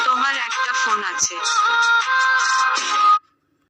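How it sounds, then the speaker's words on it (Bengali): A custom phone ringtone built around a person's name plays loud and close as a melodic tune with a voice calling the name, then cuts off abruptly into silence. "আপনাদেরকে দুইটা রিংটোন দেখিয়েছি আমি"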